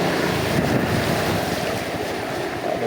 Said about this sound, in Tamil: தண்ணி இங்கே ஊடி வருது ஊடி வந்து இதுக்குள்ளே சேருது